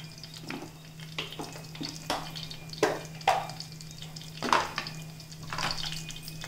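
Urad dal, mustard seeds, cumin and dried red chilli frying in hot oil for a jackfruit seed curry: a steady sizzle with sharp crackles and pops and occasional stirring clatter, close and moderately loud.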